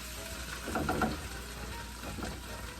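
Onions browning in a hot pan give off a soft, steady sizzle and crackle, with a brief swell of frying noise partway through.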